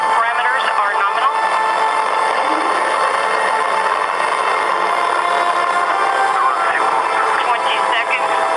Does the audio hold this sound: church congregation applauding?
no